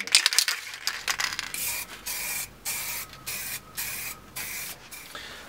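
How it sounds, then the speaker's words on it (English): Short hissing bursts of spray varnish from an aerosol can onto a small wooden plectrum case, several sprays in a steady rhythm with brief pauses, close and fairly loud. "I'm going to give it a coat of spray varnish."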